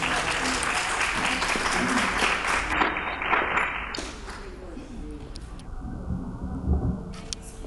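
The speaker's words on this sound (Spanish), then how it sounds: "Un aplauso, por favor." An audience applauds to welcome someone speaker at a parents' school closing conference, sustained clapping that gradually thins out.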